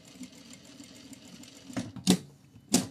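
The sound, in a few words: sewing machine stitching a pocket seam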